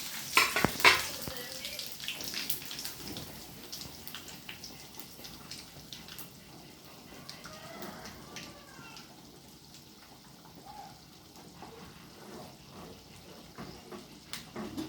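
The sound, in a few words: curry leaves sizzling in hot oil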